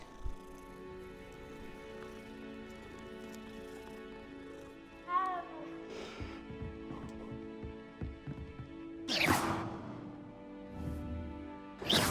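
A cat meows a few times in the video game Hogwarts Legacy, soft calls sitting under background game music with a brief louder burst near the end.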